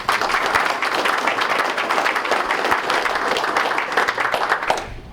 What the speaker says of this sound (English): we owe them a big round of applause for their accomplishments